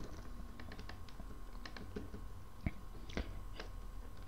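Keys clatter on a computer keyboard in a quiet room, a faint, irregular run of soft clicks with a couple of sharper taps near the end.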